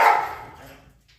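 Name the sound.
dog barking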